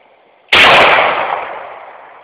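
A single sharp shot from an M9 pistol at a shooting range, loud and close, with a long reverberant tail decaying over about two seconds; no talking.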